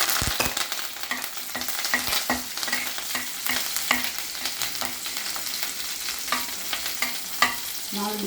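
Green chillies and curry leaves fry in a pan, a steady sizzle broken by repeated scraping stirs and clinks of a utensil, close and moderately loud with no talk.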